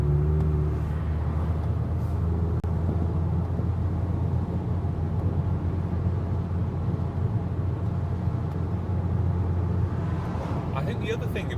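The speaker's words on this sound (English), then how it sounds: "when you introduce the power you get that lovely noise from this 6-cylinder engine" Porsche RS60 Spyder with a six-cylinder engine, heard as a steady, close engine drone and rumble throughout, with a brief rise near the end; no talk over it.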